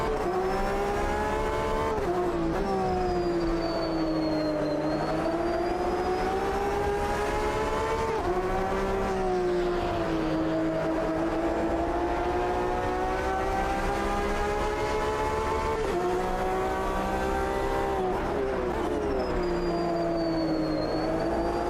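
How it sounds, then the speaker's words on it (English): Two Porsche race car engines drone together in Automobilista 2, a loud sustained layered whine that swells and dips with speed changes, with no break across the whole stretch. "Oh, double Porsche sound."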